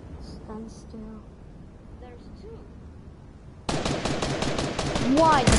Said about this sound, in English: Why did you shoot?